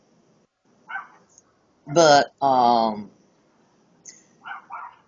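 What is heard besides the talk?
dogs barking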